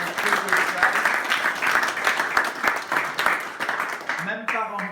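An audience applauding steadily at close range, a dense wash of clapping that holds for several seconds before a voice cuts in at the end.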